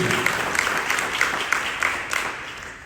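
A church congregation claps together during a worship service, a dense steady patter with periodic rhythmic accents, moderately loud and without talk.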